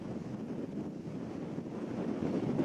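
Strong wind, around 30 knots, blowing across a sailing yacht at sea, a steady rushing roar buffeting the microphone with a faint wash of water underneath, building slightly toward the end.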